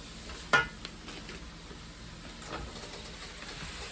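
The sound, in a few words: mixing seasoned ground turkey in a pot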